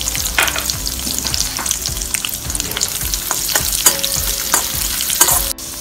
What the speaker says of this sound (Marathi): नंतर यामध्ये जाडसर वाटून घेतलेले शेंगदाणे टाकणार आहोत आणि त्याला छान असं परतून घेणार आहोत